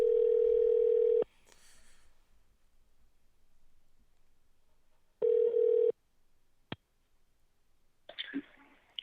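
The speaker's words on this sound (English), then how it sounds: "Jesse's ringing." A phone call ringing out: loud, steady ring-back tones separated by a long quiet gap. A click and some faint shuffling follow, and no one talks.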